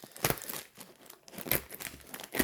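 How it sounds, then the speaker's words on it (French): Small scissors, once used for cotton, cut through paper with crisp crinkling snips and rustles, several quick cuts close up and alone. "ça coupe très bien le papier."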